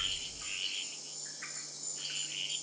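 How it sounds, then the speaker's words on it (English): Frogs and toads call at night in Caribbean jungle, a dense, steady high-pitched chorus of trills filling the background evenly, faint and continuous with no voices. "Every species of frog and toad has its own song, all in search of a mate."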